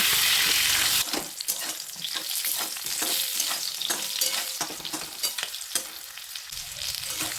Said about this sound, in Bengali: একই তেলের মধ্যে কেটে রাখা পটলগুলোও দিয়ে দিচ্ছি। পটলগুলো দিয়ে দেওয়ার পর এইগুলো হালকা লাল করে ভেজে নিতে হবে।